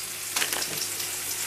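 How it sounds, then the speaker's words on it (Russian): Onion and asparagus fry in a pan with a steady, close sizzle, broken by a few brief stirring scrapes and pops, and no voices. "здесь обжариваю лук быстренько"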